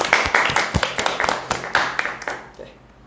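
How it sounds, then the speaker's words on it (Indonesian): Scattered hand clapping from a small podcast audience, a handful of distinct close claps at uneven rhythm that thin out and fade toward the end. "Boleh tepuk tangan dulu dong."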